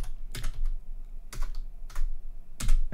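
Bursts of computer keyboard typing as a command is entered on a Raspberry Pi, three or four short clusters of close key clicks separated by brief pauses, no speech.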